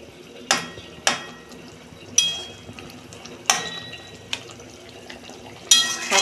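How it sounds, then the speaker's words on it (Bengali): A pot lid comes off a simmering Bengali fish curry with cauliflower and potatoes: a handful of sharp metallic clanks and clinks, close and fairly loud, spaced irregularly over a quiet kitchen background. "দেখুন বন্ধুরা ঢাকনা খুলছি।"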